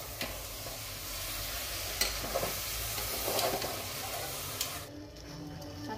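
Curd stirred into spices frying in oil for veg pulao, a soft steady sizzle and hiss with a few light spoon scrapes, fairly quiet, easing off near the end.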